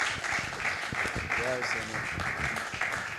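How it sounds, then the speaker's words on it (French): A church congregation applauds for Jesus, a sustained wash of clapping mixed with voices that carries on throughout. "Est-ce qu'on peut acclamer pour Jésus?"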